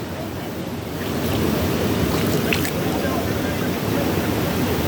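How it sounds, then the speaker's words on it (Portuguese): A large waterfall in Extrema, Minas Gerais, pours in a constant broadband rush of falling water that swells slightly and holds steady, with no voices. "Olha o tamanho dessa cachoeira aqui."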